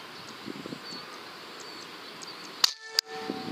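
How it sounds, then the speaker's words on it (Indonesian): Two sharp air rifle shots from a Berang-32 barrel, the first a loud crack with a brief ringing tail and the second a softer snap just after, over faint outdoor insect hum. "tembakan yang kedua Mas Sumo."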